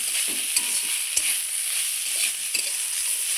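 Banana stem (thor) frying in oil in a pan, an even sizzle close by with occasional soft taps and scrapes from stirring, no voices.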